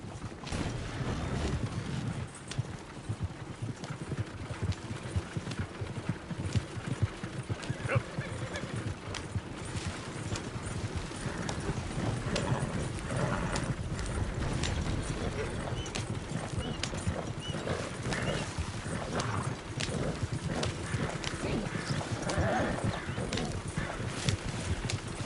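Horse hooves clip-clop steadily through a Red Dead Redemption 2 ride, the rhythmic footfalls blending with dense ambient noise while a voice urges the horse on.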